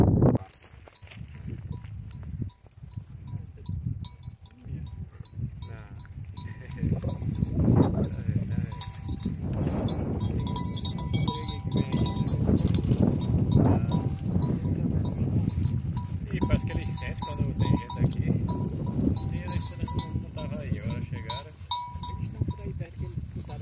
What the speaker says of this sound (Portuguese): Aquela ovelha tá prenha